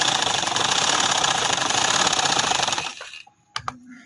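Electric sewing machine stitching a full sleeve, a steady fast mechanical whir running for about three seconds, then stopping, followed by a few sharp clicks and taps of handling.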